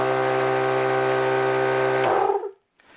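A Thumper Max II 12-volt air compressor runs loud and close with a steady droning motor hum, then is cut off and winds down quickly into silence.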